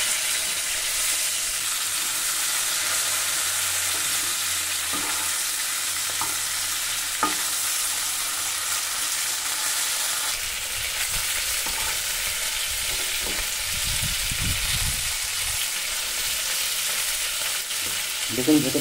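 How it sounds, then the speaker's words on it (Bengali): Hilsa fish from the Padma frying in a pan, with a continuous close sizzle and occasional clicks and scrapes as the pieces are turned, plus low knocks toward the end. "মোটামুটি ভাবে আমাদের মাছগুলো ভাজা হয়ে গেছে"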